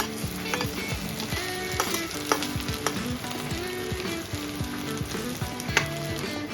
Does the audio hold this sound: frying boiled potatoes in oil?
yes